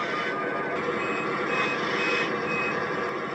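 A Lionel modern diesel model locomotive's sound set plays a loud, steady engine drone with a constant electronic tone on top, continuous and close, with no talking.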